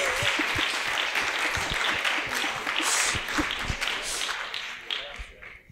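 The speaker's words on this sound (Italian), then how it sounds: "Farei un applauso a Riccardo Pagliani." Applause from an audience at an evening event on pain therapy, greeting a staff graphic designer: a moderate burst of clapping with a few distinct claps at the start, gradually thinning toward the end.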